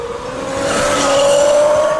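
A 2015 Zero DS 12.5 electric motorcycle's motor gives a loud, close whine that rises steadily in pitch as it accelerates and covers the belt's rattle.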